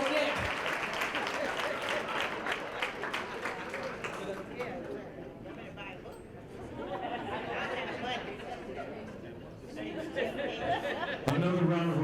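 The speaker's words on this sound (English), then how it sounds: "Another round of applause for my brother, Agbar Bryson" Applause at an achievement gala, dense crowd clapping for several seconds that thins into chatter and talking in the middle, then swells again briefly near the end.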